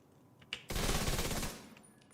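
A single loud, close burst of rapid automatic gunfire from a video game, lasting under a second after a brief sharp shot, then fading to quiet.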